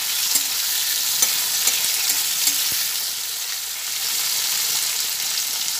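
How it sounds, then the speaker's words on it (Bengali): Several ingredients fry together in a pan with a loud, steady sizzle, while a few light knocks and scrapes from stirring tick through the first half. "এক এক করে সব একসঙ্গে ভেজে নিচ্ছি"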